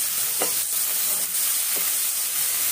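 Onion and tomato softening with tamarind in a pan give a steady, close sizzle and hiss, with a few soft stirring scrapes at intervals and no voices.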